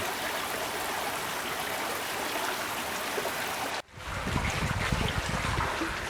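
A small river, the Lybid, flows and gurgles in a steady, close wash of water noise, briefly cut off before resuming with more low burbling.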